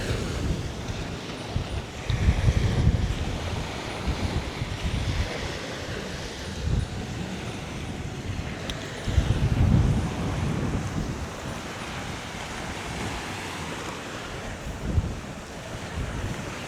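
Strong wind on a beach in Phuket roars and buffets the microphone in heavy gusts, with surf rumbling underneath and no voices.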